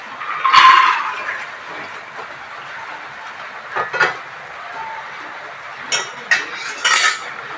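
Dry chickpeas tipped into a metal pressure cooker, bursts of hard rattling and clinking against the pot, with quieter gaps and a few short clatters toward the end.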